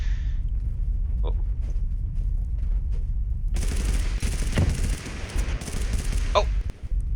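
Shotgun fire in Totally Accurate Battlegrounds, a few sharp booming blasts amid a dense rumbling stretch of gunfire and game noise, with voices talking intermittently over it.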